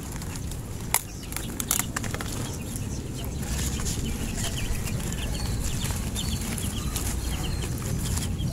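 Farm chickens and a rooster cluck and call continuously outdoors at close to moderate range, with a few sharper bursts and wing flaps over steady background noise.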